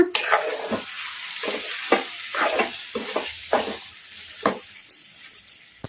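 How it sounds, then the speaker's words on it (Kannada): Chicken with masala powder fries over a medium flame while a spoon stirs it, making a series of sharp scrapes and clatters over a soft, continuous sizzle. "ಇದನ್ನೆಲ್ಲ ಮೀಡಿಯಮ್ ಫ್ಲೇಮಲ್ಲಿ ಫ್ರೈ ಮಾಡ್ಕೋಬೇಕು ಈಗ ಕಲಿಸ್ಕೊಂಬಿಡೋಣ"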